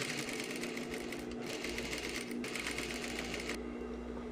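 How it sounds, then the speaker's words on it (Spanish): A sewing machine runs steadily, stitching a gathering seam along fabric half a centimetre from the edge; close, continuous motor hum with rapid needle rhythm, alone without voices. "a medio centímetro voy pasando la costura para plisar"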